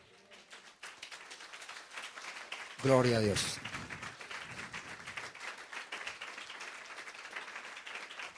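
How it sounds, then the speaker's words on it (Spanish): A church congregation claps at a Sunday service, with scattered, moderately close clapping running under a speaking voice, while a short burst of amplified speech rings out loudly near the start. "Dale un aplauso al Señor."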